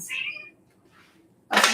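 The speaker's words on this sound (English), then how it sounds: "That's my cat meowing." A house cat meows once, up close and plaintive, then falls quiet before a sudden burst of bright rustling noise cuts in at the end.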